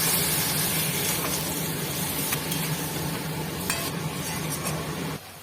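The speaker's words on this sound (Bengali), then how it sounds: "দিয়ে দেবো চিকেনটা চিকেনটা ভালো করে পাকাতে হবে" Chicken stirred in hot oil with bay leaves, dried red chillies and whole garam masala for tel jhal chicken, a loud continuous sizzle with scraping stirs, close up, dropping off abruptly near the end; no talk.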